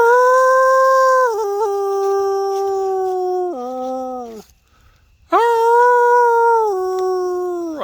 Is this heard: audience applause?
no